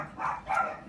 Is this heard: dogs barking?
yes